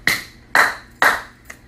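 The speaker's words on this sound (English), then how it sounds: "And I just clap." Three sharp, close hand claps evenly spaced about half a second apart, followed by a much fainter fourth tap, in a quiet room during a spiritual talk.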